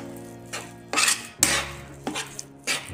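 Khoya being roasted in a pan for til laddu is stirred with a metal spoon, producing several distinct scraping and clanking strokes against the pan over a faint background sizzle.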